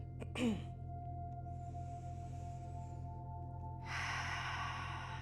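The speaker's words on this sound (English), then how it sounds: "Exhale, make a bit of sound." A yoga participant lets out an audible breath during a breathing exercise: a short breathy burst near the start, a soft airy exhale, then a louder, rushing breath toward the end, close and intimate, with no talking.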